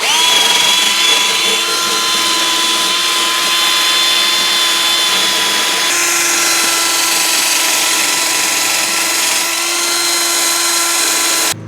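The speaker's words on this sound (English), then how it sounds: "We're going to use a wire wheel here" A power-driven wire wheel cleans a car part during a Detroit Speed Wonder Bar install on a third-generation Camaro or Firebird. It gives off a loud, steady high-pitched whine with a shift in tone about halfway through and runs for roughly twelve seconds.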